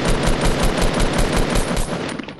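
Rapid automatic gunfire in the Fortnite Battle Royale video game, a dense burst of loud, evenly spaced shots rattling for about two seconds before tapering off.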